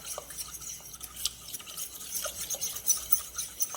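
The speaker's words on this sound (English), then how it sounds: "We're going to stir it all with a fork." A fork whisks eggs and sugar in a bowl for lemon curd, giving quick, light clicking and tapping against the side, fairly faint and continuous with small uneven bursts, no talking.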